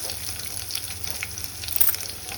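Curry leaves and green chillies frying in hot oil, a close, steady crackling sizzle with fine spitting pops throughout.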